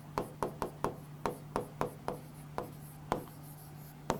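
Writing on a board during a class 12 lecture, with a run of sharp, evenly spaced chalk or marker taps and strokes, close and distinct, with no voices.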